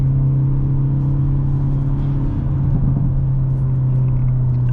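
A Hyundai Elantra N drives along, its engine a steady, loud low drone with a constant hum and road rumble heard from inside the car.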